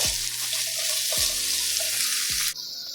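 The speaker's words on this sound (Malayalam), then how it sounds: "ഇപ്പോൾ നമ്മൾ ചെറുള്ളി ചേർത്ത് കേട്ടോ ചെറിയ ഉള്ളി നൂറ് ഗ്രാമിൻ്റെ അടുത്തിട്ടുണ്ട് ഏകദേശം നല്ല മൂക്കട്ടെ" Small shallots, about a hundred grams, hiss loudly in hot oil as they fry for a snakehead fish curry in coconut milk; a few utensil knocks sound, and the sizzle cuts off abruptly near the end.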